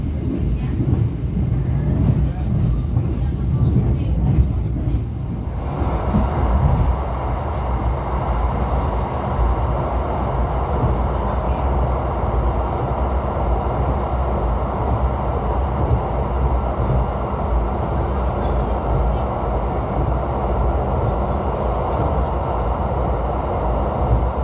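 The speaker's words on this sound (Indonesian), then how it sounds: "Kita nikmatin aja perjalanan naik kereta api Malioboro Express pada kali ini." Malioboro Express passenger train running on rails, a steady loud rumble and rattle of the carriage heard from onboard throughout, with a brief louder rush early on before settling into continuous rolling noise.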